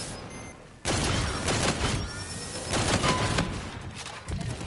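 Legendary G-Rail gun firing rapidly in a video game, with dense bursts of loud close shots that start abruptly and run almost continuously for several seconds, with no talk over them.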